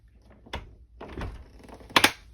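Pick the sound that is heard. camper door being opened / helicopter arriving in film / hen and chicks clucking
camper door being opened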